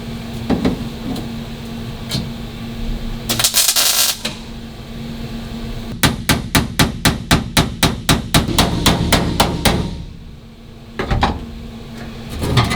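A hammer strikes a sheet metal floor pan section, first in a few scattered blows, then in a rapid run of about a dozen sharp metallic hits, with a couple more strikes after a short pause, close and loud.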